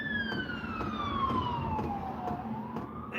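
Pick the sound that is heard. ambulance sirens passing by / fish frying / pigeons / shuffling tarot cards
ambulance sirens passing by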